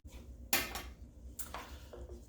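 A metal fork clinks and scrapes against a baking pan while pressing the edges of date-filled cookie dough, a few sharp separate taps and clicks spaced across the moment, fairly quiet and close.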